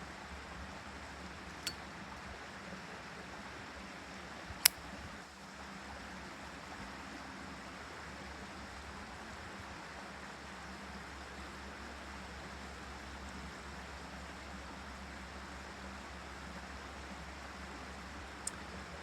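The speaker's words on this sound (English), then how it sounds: "Well, of course, you can see I'm out here at the creek here." A creek runs behind a house and barn, a soft, continuous rush of flowing water that stays even throughout, with a couple of faint clicks and no talking.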